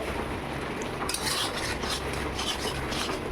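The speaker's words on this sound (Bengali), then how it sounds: "এবার আমি আগে থাকতে ভেজে রাখা আলুগুলো দিয়ে দেবো।" Pre-fried potatoes go into hot oil in a pan for a vegetarian Kashmiri aloo dum made without onion or garlic, giving a soft scraping clatter followed by a light, steady sizzle and stirring, close by and without talk.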